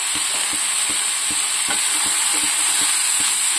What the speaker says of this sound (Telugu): కొంచెం కలిపిస్తూ ఉండాలండి, మధ్యలో మాడిపోకుండా.